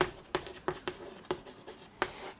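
A pen or chalk writes on paper or a board during a class 12 maths lesson, giving soft, regular scratching strokes with sharp taps at intervals, close and alone with no talk.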